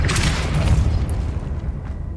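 A single deep boom from a Confringo fire spell in Hogwarts Legacy, loud at the start and rumbling as it fades over about two seconds.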